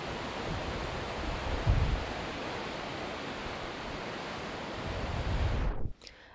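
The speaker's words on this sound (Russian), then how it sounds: "Какой ветер сегодня поднялся?" Strong wind roars steadily across the microphone in a dense rushing hiss, with a few heavier gusts before it cuts off, on a small island in France.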